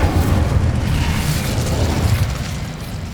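A fire spell cast in the Hogwarts Legacy game: a dense, roaring burst of flame stays loud and steady for about three seconds, then eases slightly, with no talking.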